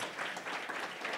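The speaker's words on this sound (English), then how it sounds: "Please join me in giving our panelists a well-rounded, a well-deserved round of applause." A round of applause from the audience at a blockchain thought-leadership media event, honouring the panelists; steady, dense clapping from a moderate crowd fills the whole short stretch at a fairly soft level.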